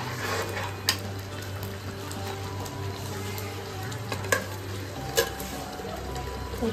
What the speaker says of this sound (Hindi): तो ये इधर ग्रेवी पक रही है।